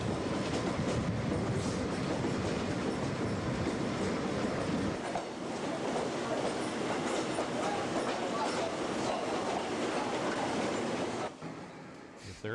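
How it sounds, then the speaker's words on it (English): A long coal train departs, rumbling steadily past with continuous clattering wheels and heavy mechanical roar, loud and near, fading slightly at the end. "This coal train will depart west."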